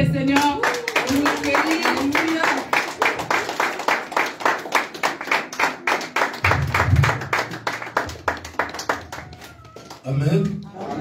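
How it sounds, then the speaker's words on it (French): A church congregation claps in a steady, fast, even rhythm for several seconds, rising to a burst of acclaim at the end, with voices shouting and singing under the clapping. "Est-ce qu'on peut acclamer le Seigneur?"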